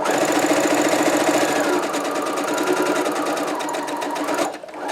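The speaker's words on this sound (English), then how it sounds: "just sew an even 5/8 of an inch seam down the length of your sample" A sewing machine stitching an even 5/8-inch seam down a fabric sample, a close, fast, steady mechanical whir and rapid needle clatter that cuts off abruptly near the end.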